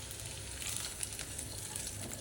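Chicken balls frying in a pan of hot oil, a steady crackling sizzle with scattered pops running throughout, close and even, with no voices.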